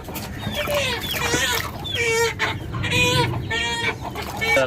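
Chickens cluck and squawk up close in a backyard coop, with repeated rooster calls and hen chatter overlapping in a busy, continuous stream.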